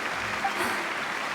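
Steady crowd applause from a theater audience at a stage performance's curtain call in Genshin Impact, a dense, even patter of many clapping hands held throughout at moderate loudness.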